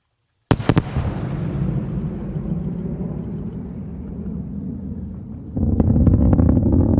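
Sonic booms from a returning SpaceX Falcon 9 booster hit as a sharp sudden crack, then roll into a long low rumble that fades slowly before a second loud rumbling surge swells near the end.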